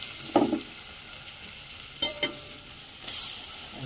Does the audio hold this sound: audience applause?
no